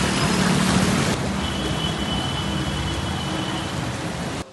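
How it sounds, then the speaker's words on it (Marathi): Heavy continuous rain pours down during the night in Beed amid waterlogging, a dense steady roar that stays loud throughout and drops slightly partway through. "बीडमध्ये मध्यरात्रीपासून पाऊस सुरू आहे जो पाऊस आत्ताही संततधार कोसळताना पाहायला मिळतोय"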